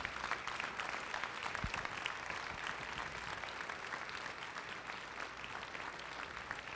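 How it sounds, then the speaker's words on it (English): An audience at a drama production applauds a family, steady scattered clapping heard at a distance and fairly faint, continuing for several seconds. "could we just give a round of applause for that family"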